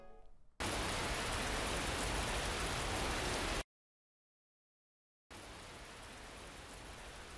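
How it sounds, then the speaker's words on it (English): Steady hiss of heavy rain in The Fruit of Grisaia visual novel fills about three seconds, cuts to silence, then returns softer and continues alone. "The morning of Mr. Ochi's departure from the camp was unfortunately a rainy one."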